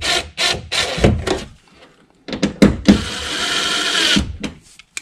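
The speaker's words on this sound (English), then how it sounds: "I'll take my drill. I'm just going to snug them up." A power drill snugs self-tapping bolts into a Nissan NV200 driver-side door during a speaker replacement, whirring in several short, close bursts separated by brief pauses.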